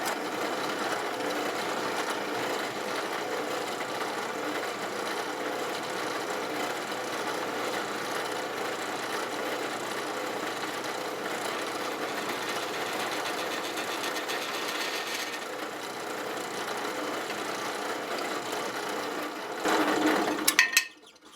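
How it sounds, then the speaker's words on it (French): A drill with a precision bit bores and enlarges holes in wood, giving a steady, close, continuous whir that runs unbroken and ends with a few brief louder bursts. "c'est une bonne mèche pour arriver et pénétrer de façon précise dans ton matériel"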